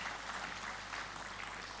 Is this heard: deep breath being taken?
no